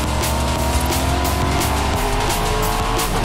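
A car tears off-road in Forza Horizon 5 in simulation mode, bouncing hard over rough ground: a loud, continuous engine roar with tire and gravel noise, mixed with steady background music.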